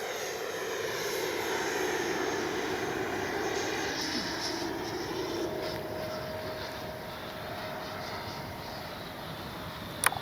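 FMS Avanti S 90mm radio-controlled ducted-fan jet in flight, giving a continuous airy whine and rushing roar at an even level for ten seconds, with a faint shifting tone and a brief sharp tick at the very end.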